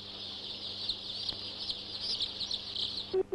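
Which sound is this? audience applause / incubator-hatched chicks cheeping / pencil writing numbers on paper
incubator-hatched chicks cheeping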